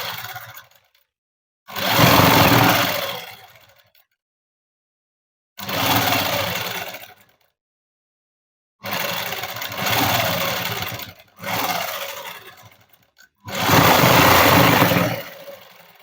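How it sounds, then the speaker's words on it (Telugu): A sewing machine stitching dress fabric runs in five separate bursts of about one to two seconds each, with clean silences between them, close and fairly loud. "ఇప్పుడు అనేది కుట్టేద్దాము"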